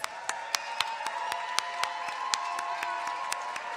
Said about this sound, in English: please stand so we can applaud all that you are and all that you do